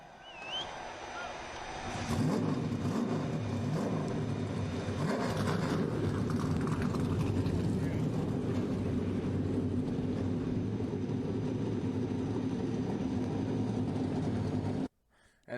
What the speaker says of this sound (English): The engines are fired here at Daytona.